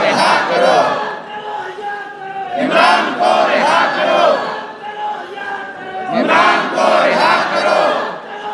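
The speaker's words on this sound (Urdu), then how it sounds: "اس کے نعرے آپ نے لگا دیے" A large crowd at a Pakistani political rally chants slogans in loud, rhythmic waves, three surging call-and-response bursts swelling and fading, close and massed.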